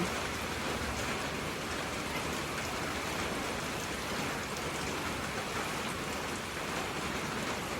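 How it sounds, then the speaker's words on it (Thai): Steady, dense rain pouring down, a continuous hiss of drops striking surfaces without pause. "ฝนมา"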